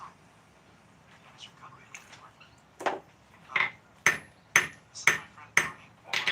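Hammer blows ringing on an anvil during chainmail making, with magnets behind the anvil to damp it; quiet taps first, then about six sharp metallic strikes in a steady rhythm, close and loud.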